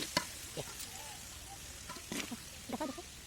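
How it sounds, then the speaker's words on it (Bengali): Beef tripe fries in a pan with a soft, continuous sizzle, broken by a few sharper crackles and pops while it cooks. "এখন একটু ভেজে নিব পাঁচ থেকে দশ মিনিটের মধ্যে ভাজতে হবে"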